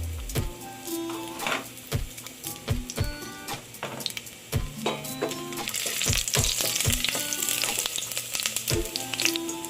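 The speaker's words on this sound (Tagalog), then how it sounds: "ihintay natin hanggang mainit na yung ating oil. And then, i-add natin yung half na garlic natin kanina." Garlic fries in hot oil, a soft steady sizzle broken by sharp clinks and scrapes of a utensil stirring in the pan, with the frying growing louder toward the end.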